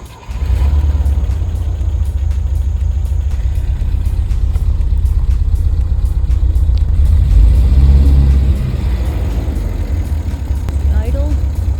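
A 1971 Volvo 1800E engine cold-starting and settling into a loud, steady low rumble of idle, recorded close by outdoors, with a brief surge in revs partway through.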